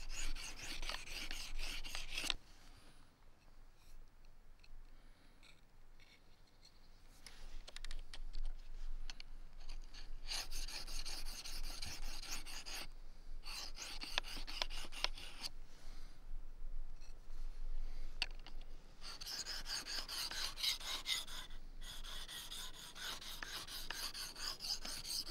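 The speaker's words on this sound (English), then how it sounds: "Once I've used the coarse side of the stone to just tidy up the edge" A knife is drawn across the coarse side of a sharpening stone in quiet, repeated rasping strokes that come in bursts with short pauses between them.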